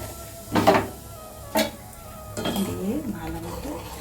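Curry stirred in a pan, with a few distinct metallic clanks of the spoon against the pan followed by softer scraping and bubbling, close and moderately loud.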